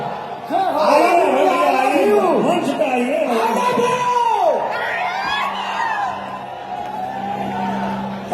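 A crowd at a Bhojpuri film award show in Patna cheers loudly with rising and falling whoops and shouts over a dense wash of audience noise that eases slightly toward the end.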